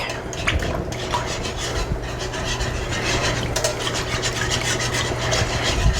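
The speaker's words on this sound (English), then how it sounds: "we're just going to give it a little bit of a whisk" Red curry paste is whisked in a bowl, giving a continuous rapid scraping and rasping against the bowl, fairly close, with no voices.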